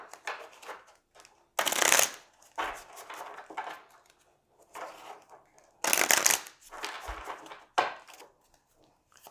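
Tarot cards from the Magical Times Empowerment deck being shuffled in two loud, crisp bursts of riffling, separated by quieter scattered handling and soft tapping of the cards.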